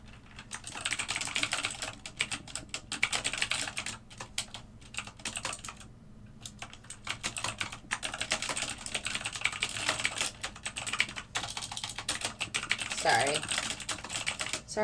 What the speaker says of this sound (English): Sorry, I'm doing a lot of typing today.